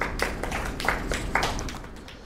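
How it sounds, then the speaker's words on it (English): Brief, scattered clapping from an audience at a FOSSASIA 2018 tech conference talk, a handful of sharp hand claps that thin out and fade within a couple of seconds. "A round of applause."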